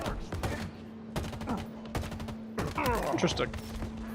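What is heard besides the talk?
gunfire in Halo Infinite video game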